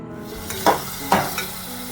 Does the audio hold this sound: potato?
yes